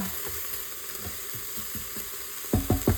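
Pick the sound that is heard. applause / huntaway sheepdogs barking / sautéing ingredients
sautéing ingredients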